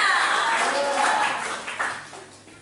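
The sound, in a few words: congregation clapping for God in church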